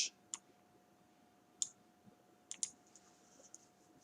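A computer keyboard tapped lightly: a handful of sharp, scattered clicks and keystrokes, close and fairly faint, over a quiet steady room hum with no talking.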